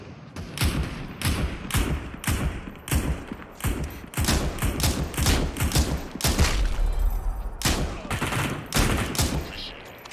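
Rapid bursts of gunfire in the battle royale video game Super People, loud repeated volleys of shots and thuds packed close together throughout, with a voice talking briefly between them.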